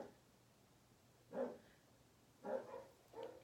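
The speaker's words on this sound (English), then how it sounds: "You know damn well they're just barking at my neighbor's little dog" Muffled dog barks sound from a distance, three separate barks with the last two closer together, over a quiet background.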